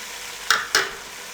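Potatoes and peas stirred in a cooking pot with a spoon, two short scraping clanks against the pot over a quiet background hiss.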